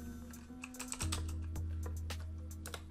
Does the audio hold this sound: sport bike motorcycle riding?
no